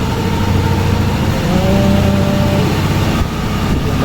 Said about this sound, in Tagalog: Ngayon i-start natin. Ayan, maandar na siya.